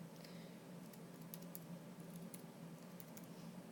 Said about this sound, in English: So let's type real passwords